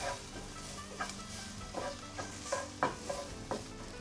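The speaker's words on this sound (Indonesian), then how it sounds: "Lalu langsung saja tumis bawang putih dan jahe." Garlic and ginger stir-fry in a pan with a soft, continuous sizzle, broken by a series of stirring scrapes and taps every half second or so, close and fairly quiet.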